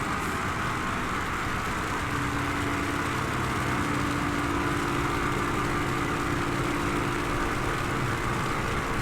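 A carrier-based propeller plane's engine runs at full power in Microsoft Flight Simulator 2024, producing a steady, continuous drone with a sustained hum that holds for the whole stretch without talk.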